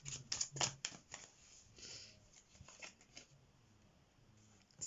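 Tarot cards are shuffled quietly up close, with a flurry of crisp riffling snaps at the start followed by softer, scattered shuffling sounds.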